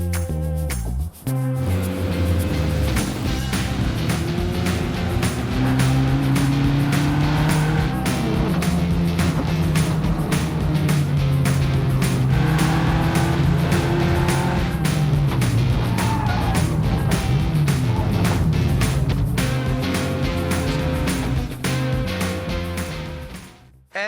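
Loud, continuous roar of stock car engines racing around a track, with rising and falling engine pitch as cars pass.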